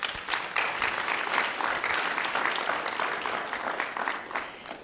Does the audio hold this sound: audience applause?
yes